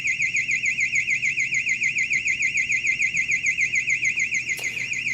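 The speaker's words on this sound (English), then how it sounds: "It's an alarm going off on their end." An electronic alarm heard over a livestream, a loud warbling siren tone that rises and falls in a fast steady cycle and sounds without a break, with a brief click near the end.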